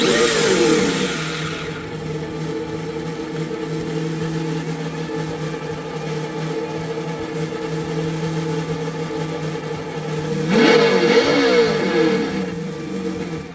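A Traxxas Slash RC car's electric motor revving under throttle: a sharp whine at the start, a steady hum for several seconds, then a second rising burst near the end, close and fairly loud.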